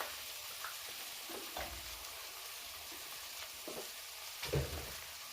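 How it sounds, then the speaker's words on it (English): Garlic fries in a pan with softened, translucent onions, giving a steady low sizzle with occasional soft scrapes and knocks of stirring, and one louder clunk near the end. "Just sweated that garlic down quickly"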